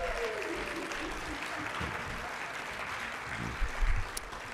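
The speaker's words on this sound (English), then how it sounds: "Let's give them a round of applause." Audience applause at an evening charity food-and-wine event, a steady broadband wash of clapping that holds evenly throughout, fairly faint and distant, with a slight swell near the end.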